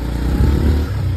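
A motor vehicle pulls up near a hillside fort visited by tourists, its engine loud and close with a rough, throaty rumble throughout the brief moment.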